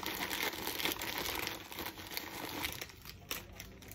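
Japanese candy wrappers crinkling and rustling as a pile is shuffled by hand, close and continuous with bursts of sharper crackles.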